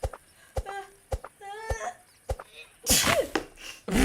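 A sudden loud sneeze bursts out near the end, broadband and sharp, followed by a brief breathy tail amid scattered clicks and faint voices speaking French.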